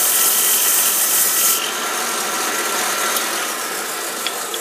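A belt sander sands a wood piece for a candle holder, a steady, close abrasive whir that drops slightly in intensity partway through and continues alone without talk.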